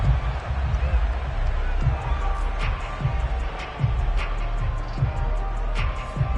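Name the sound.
crowd shouting in Madden 22 video game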